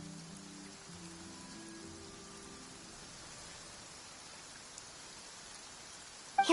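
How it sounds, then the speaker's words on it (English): Rain falling in Genshin Impact, a soft steady hiss of drops on surfaces, faint and even throughout, with a few quiet melodic tones near the start and a short sharp knock at the very end. "It's raining."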